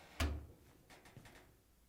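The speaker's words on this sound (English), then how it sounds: "To get it apart, we need to open the door." GE clothes dryer door pulled open: one clear, fairly soft thunk and latch click, followed by a few faint rattles as the door swings, in a quiet room.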